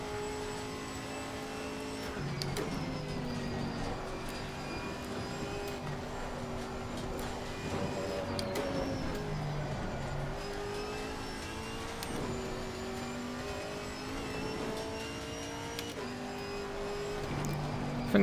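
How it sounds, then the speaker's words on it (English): A Chevy Camaro GT4 races around the Nordschleife in Assetto Corsa Competizione, its engine droning loud and steady with repeated gear shifts and rising revs, punctuated by brief dips as the driver lifts and brakes. "I think the Camaro has probably a better sound than the Mustang."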